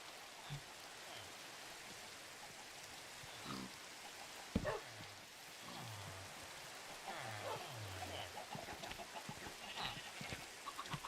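Steady rain hisses throughout a Minecraft Skyblock world, a constant soft wash with game clucks and grunts from farm animals poking through, no talking.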